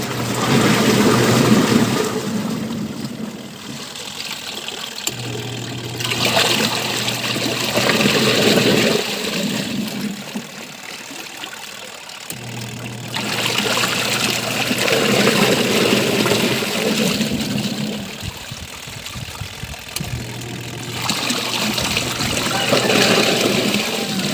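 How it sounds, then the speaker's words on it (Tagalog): Water pours and trickles from a toy house in a play washing setup, a steady splashing flow that rises and falls in several waves across the clip, fairly close and loud with no talking. "Oh, lumalabas yung tubig sa house."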